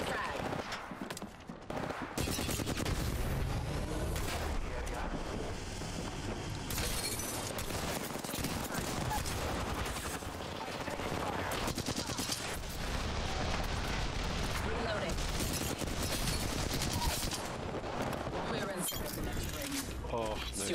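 Rapid bursts of Flatline assault rifle fire in an Apex Legends firefight, loud and sustained with near-continuous shots, mixed with game effects and talk over the action.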